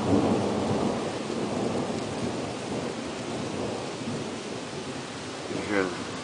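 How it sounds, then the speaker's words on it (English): Steady rain and the long rolling rumble of thunder during an evening storm, heard from a balcony, a broad continuous roar that swells slightly near the end without any voices. "You hear the thunder and hear the occasional crash of lightning."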